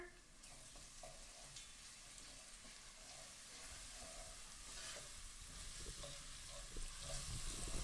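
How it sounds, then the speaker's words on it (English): Vegan pumpkin soup with crushed seeds being stirred in a pot, a soft continuous simmering hiss with light scraping, quiet and close. "I'm going to give this a stir."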